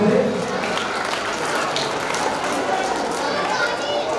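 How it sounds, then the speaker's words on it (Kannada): Audience applause at a preschool annual day, a steady wash of clapping from a crowd that fills the whole stretch at an even level, with some murmuring voices mixed in. "ಒಂದು ಜೋರಾದ ಚಪ್ಪಾಳೆ ಬರಲಿ."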